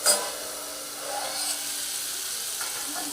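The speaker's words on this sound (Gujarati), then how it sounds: "જે મસાલામાં આપણે પાણી મિક્સ કરીને રાખ્યું હતું એ મસાલો મેં વઘાર કર્યો છે" A spice paste mixed with water tempers in hot oil for a brinjal and potato curry, giving a steady, fairly soft sizzling hiss after a small initial burst, with no talk.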